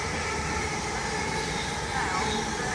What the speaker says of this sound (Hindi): और हमारी ट्रेन आ गई है रेडिंग की।